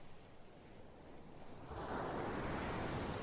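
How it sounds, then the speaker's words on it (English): Ocean surf rolling in beneath a crumbling sea cliff, a soft wash of water that swells sharply into a loud, broad roar about halfway through, with wind noise mixed in. "Do you hear the waves, Lucy?"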